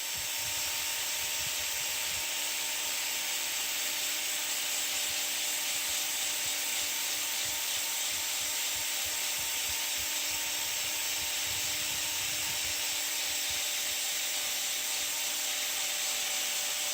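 Foam-backed 50mm sanding attachment rubbing across a surface, a steady continuous abrasive hiss with a constant tool hum, close and even throughout with no talking.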